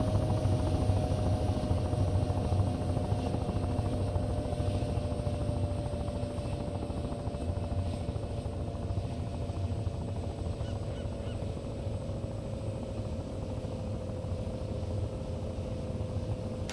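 Twin helicopter engines idle in the flight simulator game Take On Helicopters, giving a steady low turbine hum and drone with a faint constant whine that stays unchanged throughout.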